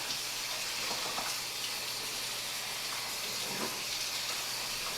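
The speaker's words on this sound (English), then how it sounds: "fill it up some more with some hot water." Hot water pours and hisses steadily while a styrofoam incubator with a mesh tray fills for soapy cleaning, a continuous faint splashing rush with no talk.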